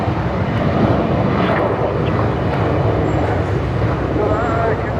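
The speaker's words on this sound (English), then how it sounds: "I'm taking off now on Qantas 939" A Qantas Boeing 737 on its takeoff roll at Brisbane Airport, a loud, close, continuous engine roar that stays strong and steady, with no talk over it.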